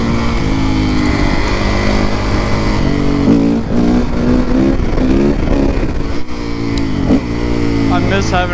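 A Kawasaki KX450F dirt bike engine revs hard and loud nearby as the rear tire spins, the pitch climbing and falling in repeated surges, with a voice talking over the noise.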